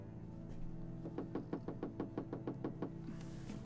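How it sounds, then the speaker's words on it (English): Knocking on a door in The Beast Within: A Gabriel Knight Mystery: a steady run of about eleven evenly spaced knocks over a low ambient hum, fairly quiet, with no speech. "Somebody's at the door."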